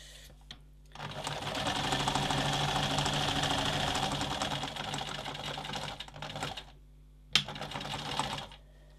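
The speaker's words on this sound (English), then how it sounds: "away we go with the sewing machine." Sewing machine stitching the top hems of a fabric purse, a steady close whirring run of about six seconds with brief start-stop bursts before and after.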